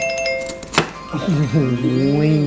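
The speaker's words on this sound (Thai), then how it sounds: "คือตอนหั่นก็เสียงชัดเจนมาก" A sharp, crunchy chop of a knife through crispy-skinned Thai pork belly rings out once amid faint clatter, followed by a person talking.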